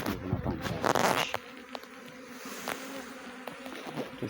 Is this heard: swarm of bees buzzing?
yes